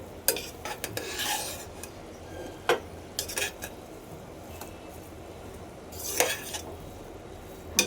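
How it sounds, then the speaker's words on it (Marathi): Carrot halwa being stirred in a pan, with scattered metallic scrapes and clinks of a spoon against the pan, in irregular bursts at close range with quiet gaps between. "पुन्हा एकदा आपण असं परतून घेऊया याला"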